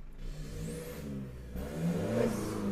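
A small engine revs up and drops back, then climbs again, a close buzzing rise and fall with no talking.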